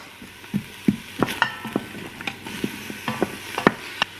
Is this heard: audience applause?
no